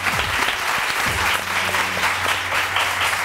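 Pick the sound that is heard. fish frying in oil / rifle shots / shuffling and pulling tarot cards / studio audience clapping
studio audience clapping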